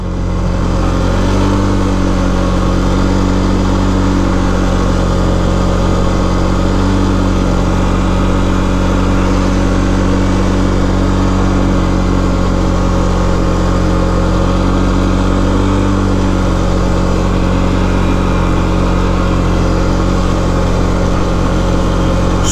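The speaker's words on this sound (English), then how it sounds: "Good to get the four-wheeler back out." A four-wheeler ATV engine drones loudly and continuously while it is ridden through falling snow, a steady close mid-low hum with slight rises in revs, heard alone throughout.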